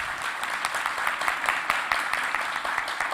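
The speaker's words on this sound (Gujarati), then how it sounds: "વાઘાણી સાહેબ અને એમની આખી ટીમને પણ તાળીઓથી વધાવો" An audience at a Gujarati literary session claps for Vaghani and his team: steady, fairly quiet applause from a crowd, continuous throughout with slightly uneven peaks.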